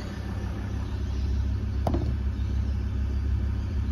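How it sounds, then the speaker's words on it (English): A vehicle's engine idles at a steady, low rumble close by, with one brief click partway through and no voices. "Rightio, vehicle running."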